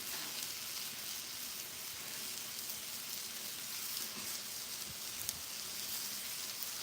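Breaded Parmesan chicken frying on a Blackstone griddle just after being flipped, giving a soft, even sizzle that hisses steadily throughout with no voices.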